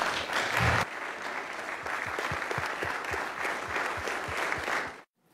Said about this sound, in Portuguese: Olena Zelenska, que foi aplaudida pelos congressistas de pé